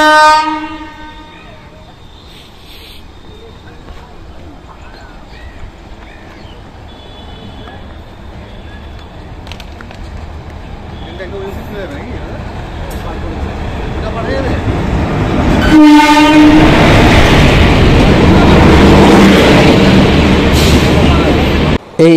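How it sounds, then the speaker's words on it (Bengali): The Kolkata–Sairang Express pulls into the Berhampore Court station platform, opening with a loud horn, then a long rumbling roll of wagons that swells louder near the end, with a second horn blast and a voice faintly audible. "প্ল্যাটফর্মে সাইরাং এক্সপ্রেস বুধবার দুপুর 3:45 পৌঁছালো।"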